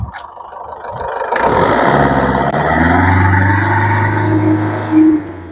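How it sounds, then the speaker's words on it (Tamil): A 2011 Ford Figo diesel engine revs up close, loud and sustained, climbing to a steady high rev near 3000 RPM before a brief bump at the end. "ரேஸ் பண்ணுற பாருங்க, அப்படியே பின்னாடி ஸ்மோக் வருதான்னு பாருங்க."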